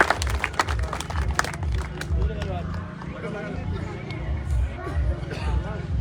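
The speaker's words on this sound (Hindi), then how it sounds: "जोरदार तालियों से अभिनंदन और स्वागत।" Guests at a village gathering are welcomed with a burst of clapping early on, followed by crowd chatter and someone speaking over the murmur.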